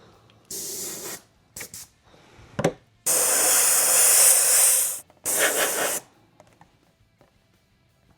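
Spray paint hissing onto an RC truck body as an orange coat goes on, several separate bursts, one short and the others one to two seconds long, loud and close with quiet gaps between.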